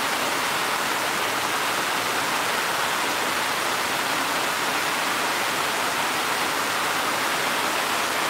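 Steady rain on a rainy afternoon, a dense continuous hiss that stays loud and even throughout with no voices or breaks.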